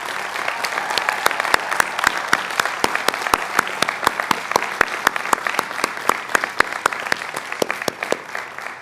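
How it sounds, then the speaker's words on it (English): A graduation audience applauds the School of Education's class of 2025, a sustained, steady burst of clapping from a large crowd, with one strong hand clap sounding close and evenly paced above the general applause. "please join me in applauding greatness"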